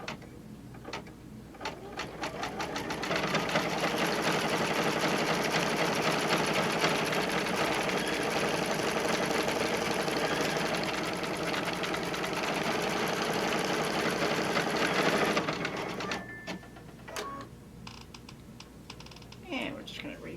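An embroidery machine stitches a zippered pouch in the hoop, a steady, fast mechanical needle chatter running close and loud for a long stretch before it slows and stops.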